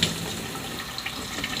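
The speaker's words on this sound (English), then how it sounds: "So I'm going to rinse them off, make sure we get all of them out of here." Tap water runs steadily into a fine strainer while tomato seeds and pulp are rinsed for seed saving, a constant close rushing splash with no talking.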